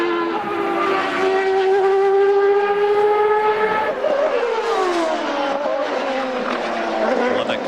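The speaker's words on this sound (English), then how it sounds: "There's Alex Tagliani plunging down the corkscrew" A CART race car from 2002 qualifying at Laguna Seca screams down the corkscrew, its loud high engine note holding steady, then dropping and climbing again through the gears, with crowd and ambient noise underneath.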